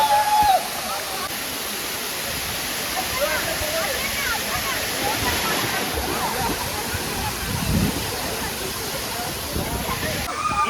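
A waterfall near Nellore roars steadily with a dense, continuous rushing wash, while a crowd of visitors chatters and calls faintly underneath.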